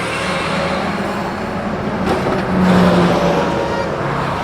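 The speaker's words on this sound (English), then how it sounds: "Now they made traffic in all fucking lanes." Steady road traffic noise from cars on a multi-lane road, a continuous broadband rumble and hiss with a passing vehicle swelling louder near the end, heard from inside a car.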